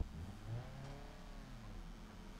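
A manual car engine in the BeamNG.drive driving game starts and revs, a steady mid-pitched drone with a brief rise in revs early on, heard alone at moderate level with a faint whir behind it.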